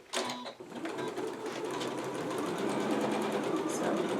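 A home sewing machine runs steadily at regular stitch, sewing a fabric face mask with the bobbin thread nearly used up; a continuous close whirring hum keeps going for about four seconds after a brief start.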